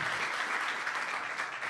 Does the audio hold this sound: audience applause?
yes